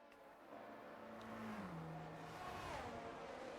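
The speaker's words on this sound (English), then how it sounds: "no one's caught up with the safety car yet" A racing car engine in a Formula racing video game revs and shifts pitch steadily, rising after a gear change as it accelerates, heard clearly with no talking.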